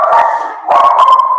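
Dogs barking at the front door, a loud, continuous burst of overlapping barks and yips that rises again after a brief dip, filling the short moment with no talk.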